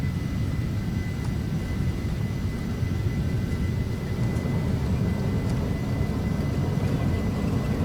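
An airliner in Flight Simulator X rolls down the runway for takeoff, its engines producing a steady, loud low roar with a faint whine that holds constant throughout.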